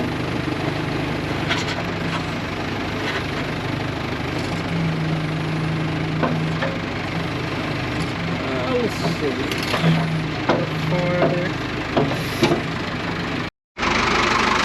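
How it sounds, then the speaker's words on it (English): A backhoe engine idles steadily at close range, a low continuous rumble with a faint knocking pulse underneath, while someone talks over it and some clanking work noises come and go. "Backhoe's so strong, it's at an idle."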